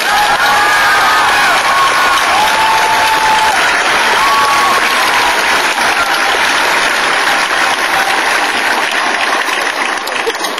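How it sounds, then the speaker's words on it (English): Loud, sustained applause from a large crowd at a graduation ceremony, steady clapping throughout with a few scattered whoops and cheers mixed in. "Please join me in giving them a round of applause"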